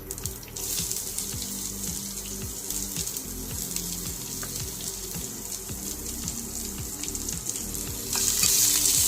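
Chopped onion hits hot oil with curry leaves in a pan for a cluster bean bhaji, producing a loud, continuous close sizzle that grows louder and brighter near the end.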